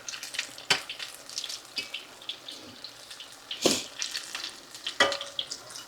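Mushroom and onion fritters frying in very hot oil give a steady crackling sizzle, close and moderately loud, broken by a few louder clatters and spatters.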